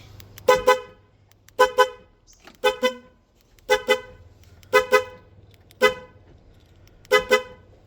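A newly wired car horn set to sound on lock and unlock honks in short bursts, mostly quick double toots, repeated about seven times with brief pauses and a low hum between.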